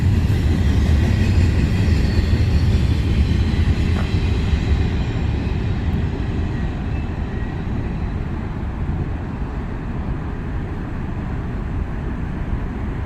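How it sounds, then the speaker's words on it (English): The NS 1065 Savannah and Atlanta Heritage Unit train passes at night in Homestead, Pennsylvania, a loud continuous rumble and roar of rolling wheels that holds steady and slowly eases. "We managed to catch the NS 1065 Savannah and Atlanta Heritage Unit twice in the same night."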